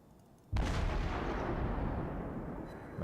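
The heavy cruiser Myoko fires its guns in a naval video game, a single sudden loud boom that rolls into a long, dense rumble as it fades slowly.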